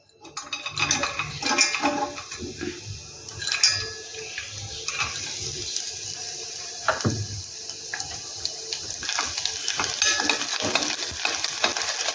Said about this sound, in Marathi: ड्रायफ्रूट्स हे आपल्याला चांगले शॅलो फ्राय होईपर्यंत तळून घ्यायचे आहेत